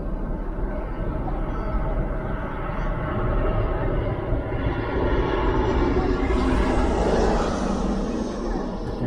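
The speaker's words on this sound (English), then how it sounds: "And so there is an airplane coming" A plane flies overhead on its approach into Houston's Intercontinental airport, a steady broadband roar that swells gradually over about nine seconds, mixed with nearby traffic hum.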